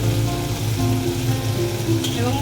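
Carrots and other vegetables fry loudly in a pan, a dense, constant sizzle heard up close, with no pauses and no talking.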